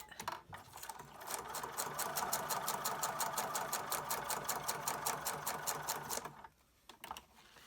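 A sewing machine stitches through paper for a junk journal in one steady, rapid, rhythmic run lasting several seconds. It is close but fairly quiet, and it stops near the end with a few faint clicks.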